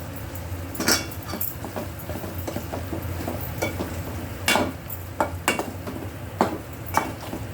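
Dried prawns and potatoes sizzle steadily in a pan while a utensil stirs, with intermittent scraping clinks against the metal, close and moderately loud, no talking.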